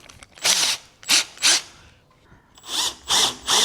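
A Milwaukee cordless power drill whirs in short bursts, three quick pulses, a pause, then three more, loud and close with no talk.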